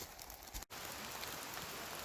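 Rain falls steadily in a foggy, cloudy forest of incense cedar, a soft, dense hiss of drops on leaves and ground with a brief dropout partway through.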